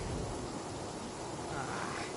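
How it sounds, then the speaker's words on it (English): Steady heavy rain with a low rumble of thunder during a lightning storm, filling the clip as a dense, continuous wash at constant loudness with no clear talk. "Uh-oh! Lightning storm!"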